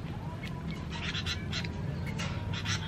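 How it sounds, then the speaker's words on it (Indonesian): Small birds chirp softly in a home vegetable garden in Jakarta growing paprika and zucchini, with faint, scattered high calls over a steady hum of background noise. "Tuh burungnya tuh, cuit-cuit tuh dia tuh."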